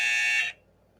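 A game show buzzer gives a single loud, harsh electronic tone lasting about half a second, then cuts off into near silence.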